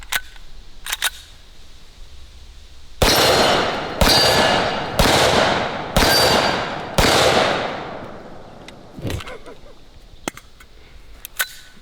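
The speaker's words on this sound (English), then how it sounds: "it looks like this Desert Eagle is putting off quite the fireball" Desert Eagle .50 AE pistol fired at a steel target outdoors, five loud booming shots about a second apart, each with a long ringing decay, with fainter clicks and handling noises before and after.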